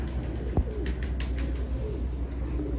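Migratory Asuj pigeons on a rooftop coo softly in low, repeated phrases against a steady outdoor background, with a brief sharp sound near the start.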